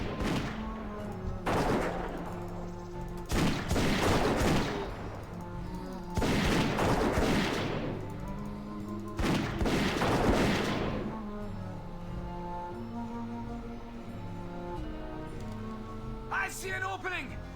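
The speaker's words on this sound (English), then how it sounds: "But not before shooting a few orcs in the head." A World of Warcraft Mists of Pandaria Classic hunter fires a gun at orcs. There are four loud, booming bursts about two to three seconds apart, each lasting about a second, over steady game music.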